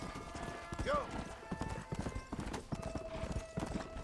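Horse hooves clip-clopping in the Red Dead Redemption video game, a steady trotting rhythm with a brief whinny, running under a voice.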